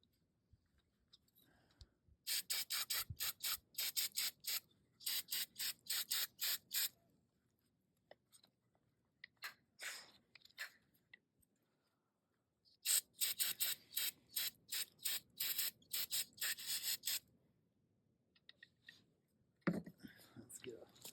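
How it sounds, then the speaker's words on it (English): Carb cleaner is sprayed in short hissing bursts into the throttle body of a Jeep Cherokee XJ, with two longer blasts among scattered quick ones. The spraying is close, with faint murmuring in between. "I'll hit it with some. This is typical carb cleaner."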